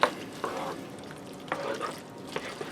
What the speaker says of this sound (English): I'm just going to stir that all together to get it good and blend it